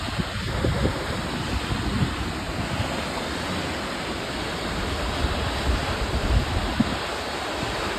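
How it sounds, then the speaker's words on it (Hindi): Steady, broadband roar of the Chamb waterfall in snowy Azad Kashmir, a continuous rushing wash of falling water with a low wind rumble, heard alone at moderate distance without any voices. "ये देखें पीछे बिल्कुल हमारे वाटरफॉल"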